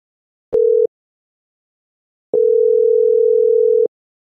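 Telephone ringback tone from an outgoing phone call: a steady single-pitch tone, one short beep followed after a pause by a longer continuous tone, clean and alone with no talking.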